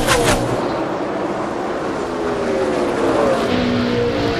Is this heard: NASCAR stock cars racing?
yes